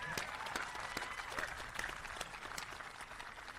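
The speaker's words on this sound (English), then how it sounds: "Y'all can clap it up for that." A graduation crowd at a high school ceremony claps and cheers, a full burst of applause with a few distinct sharp claps up front, lively and sustained, with faint voices mixed into the noise.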